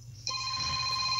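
A telephone starts ringing abruptly, a steady electronic trill heard nearby against a quiet background.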